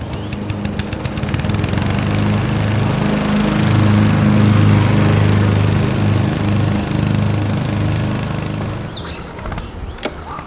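A lawn mower engine runs steadily at close range, a continuous droning hum that swells slightly midway and then fades near the end, with no talking.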